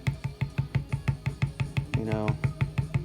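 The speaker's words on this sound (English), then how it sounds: "that is the sound of the Leatherman's trade" A tool taps on leather in a fast, even rhythm of sharp, close knocks, about sixteen strikes in three seconds, with a brief tonal buzz partway through.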